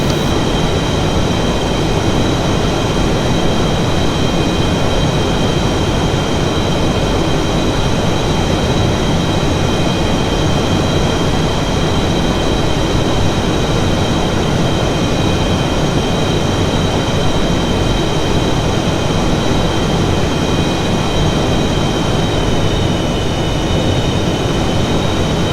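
F/A-18E Super Hornet jet engine whine in a flight simulator, a steady loud drone with a broadband roar and sustained high tonal whistles throughout, unbroken and alone with no talking.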